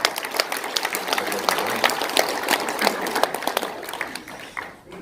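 Audience applause at a Korean panel discussion marking Park Chung-hee's birth anniversary, a steady dense patter of many hands clapping throughout, moderately loud in a hall and fading slightly near the end.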